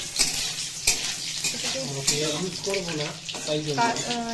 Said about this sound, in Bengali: তারপর এর মধ্যে দিয়ে দিলাম লঙ্কা কুচি।